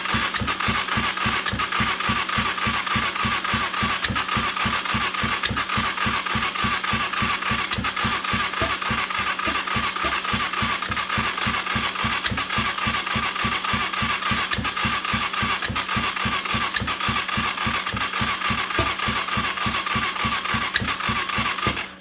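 Go-kart engine running on its own after being started, a loud, fast, even chugging pulse that holds steady for the full stretch and cuts off at the end.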